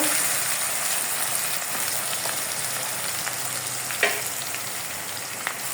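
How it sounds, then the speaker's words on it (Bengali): Sliced onions, about one and a half cups, sizzle steadily in oil left from frying hilsa fish for a Bangladeshi fish bhuna, a dense continuous hiss with a couple of faint clinks near the end. "পেঁয়াজটাকে একটু ভালো করে ভেজে নিতে হবে"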